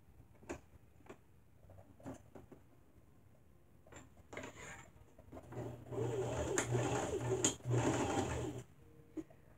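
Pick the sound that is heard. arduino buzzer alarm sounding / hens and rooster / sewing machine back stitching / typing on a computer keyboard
sewing machine back stitching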